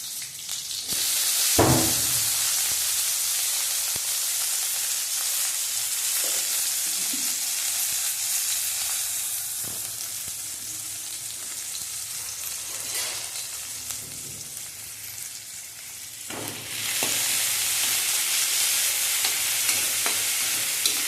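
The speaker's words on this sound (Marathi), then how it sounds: "कांदा टाकून झाल्यानंतर आपण त्याच्यामध्ये टोमॅटो टाकायचे आहे आणि ते परतत राहायचं आहे" Chopped onion and tomato sautéed for masala Maggi noodles, a steady close sizzle over the whole stretch with scraping stir strokes breaking in at intervals, no talking.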